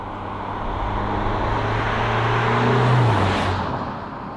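A 2023 Alfa Romeo Giulia's engine hums and whirs steadily while driving, rising slightly in pitch as it accelerates, with road noise throughout.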